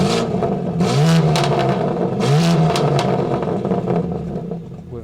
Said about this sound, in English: So exhaust valve open.